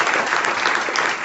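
A church congregation applauds steadily, a dense, even wash of many hands clapping close by throughout, with no talk over it.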